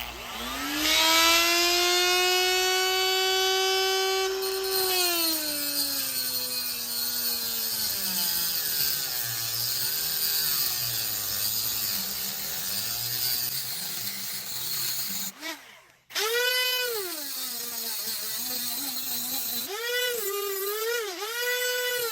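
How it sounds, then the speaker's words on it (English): A 3/16-inch aluminum piece, part of a replica ODM gear sword, is power-sanded, giving a loud, steady whining grind whose pitch sags and rises as pressure changes, cutting out briefly before starting up again. "So I'll sand this down further just to better replicate that shape."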